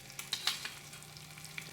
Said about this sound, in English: squirt some olive oil, and crack open the egg. Gotta love that sizzle